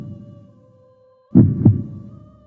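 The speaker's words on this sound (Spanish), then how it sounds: "y el ruido de sus latidos." A heartbeat sound effect gives a double thump, two strong low beats in quick succession over a steady soft hum, loud and close with no talk.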